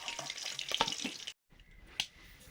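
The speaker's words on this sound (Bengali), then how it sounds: "এরপরে চুবড়ি আলুটা ভাজবো।" Chupri potatoes frying in a pan give a soft, crackling sizzle that cuts off abruptly. After a brief silence comes a single faint clink, then quiet kitchen ambience.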